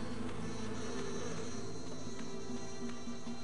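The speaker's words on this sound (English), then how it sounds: "Oh, fucking bees." A swarm of bees buzzes steadily in the Shadow of Rome video game, a dense continuous droning hum that stays constant and close throughout, with no talking over it.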